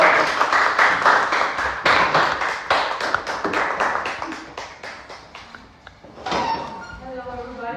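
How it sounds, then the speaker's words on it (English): Audience at a Toastmasters Sunday session clapping for a guest, a dense patter of many hands filling the room for several seconds, thinning out before a voice begins speaking near the end. "Please give her a big round of applause."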